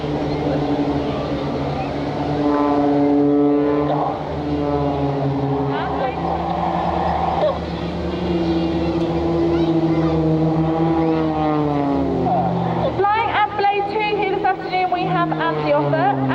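Blades propeller aerobatic aircraft flying the twin tumble manoeuvre at an air display, engines droning and sweeping sharply up and down in pitch as they tumble, with a commentator talking over them.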